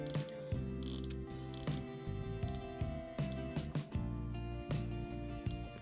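Rotating bezel on a Phoibos Voyager V2 dive watch turned click by click, a close, crisp ratcheting series of small mechanical clicks in an uneven rhythm.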